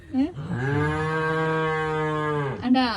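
A cow lets out one long, loud, sustained moo lasting over two seconds, close by at a religious house's farm, with brief vocal bits at the start and end.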